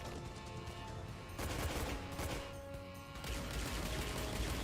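Pistol fire in the game Riddick: Assault on Dark Athena, a dense, loud burst of gunshots and crashing impacts running steadily throughout with no voices.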